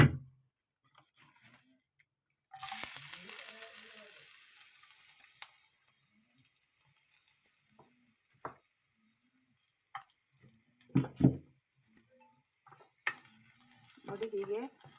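Crushed masala fries in oil, a bright sizzle starting after a quiet opening, with scattered pan clinks and stirring scrapes over it.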